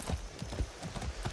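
A horse's hooves clip-clop in a quick, even rhythm of about six close, distinct thuds.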